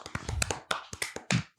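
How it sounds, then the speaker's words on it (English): A few people clap lightly and unevenly at close range, a short run of sharp, irregular hand claps with no talking. "Danny's clapping too."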